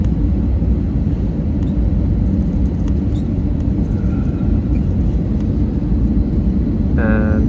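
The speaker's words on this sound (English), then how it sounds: "We are approaching the runway to land." Steady loud low rumble of an airliner's engines and cabin noise as the plane descends toward the runway at Munich airport, continuous and droning.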